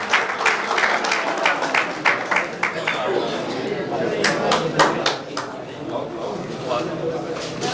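An audience gathered for a performer claps in scattered, uneven bursts, some sharp close claps standing out over a murmur of voices and chatter in the room.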